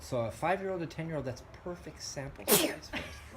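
A child's sneeze bursts out sharply amid a conversation with two young brothers, aged five and ten, whose close, quiet speech runs before and after it.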